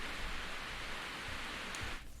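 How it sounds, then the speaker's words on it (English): Rain falls in a scene from the 1988 animated film Grave of the Fireflies, a soft, steady hiss of downpour that cuts off abruptly near the end. "They seem to get plenty of rain."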